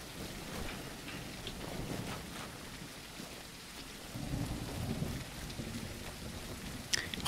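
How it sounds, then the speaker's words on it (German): Rain falls steadily in the survival building game Tribe: Primitive Builder, a soft continuous wash with a low rumble of thunder swelling midway, fairly quiet and without speech. "der Regen sieht super aus, klingt super, sehr atmosphärisch"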